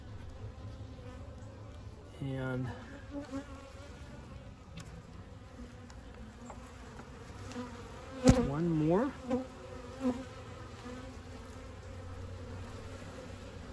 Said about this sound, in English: A lot of bees coming out of there.